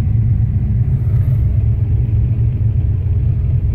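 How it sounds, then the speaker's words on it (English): A turbocharged Ford Mustang's engine idles steadily, a loud, close, deep rumble holding an even, unbroken tone for a few seconds with no talking. "car's idling good, strong."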